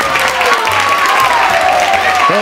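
A television studio audience applauds with dense, steady clapping and a few scattered cheers, loud and sustained for the whole moment.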